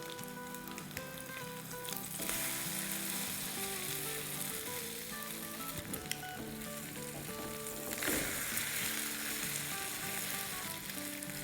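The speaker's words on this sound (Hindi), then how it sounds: "बिना मेहनत के हमारे कीमा अंडा कटलेट बन रहे हैं" Keema egg cutlets fry in hot oil in a pan, a steady dense sizzle throughout with occasional crackles and a brief stir, close and continuous without talk.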